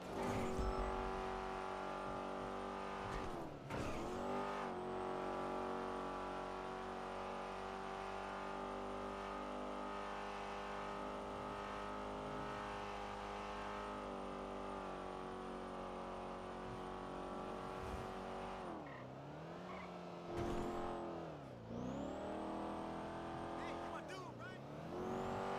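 A Porsche engine in a racing video game drones steadily at high revs throughout, with brief dips and rises around gear changes and a tire squeal, running under ongoing talk.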